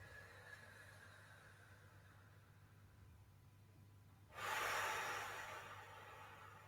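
During a Qi breathing exercise, one deep, loud inhale through the nose rushes in after a quiet stretch and then slowly fades, heard close and alone.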